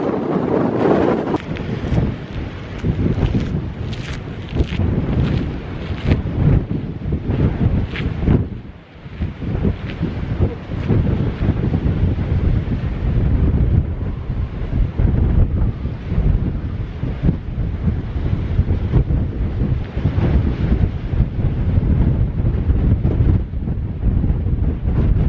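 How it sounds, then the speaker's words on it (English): Strong wind on a mountain top roars and buffets the microphone without letup, a loud, blustery rush of gusts sweeping over the exposed summit. "Oh man, it's so windy up here."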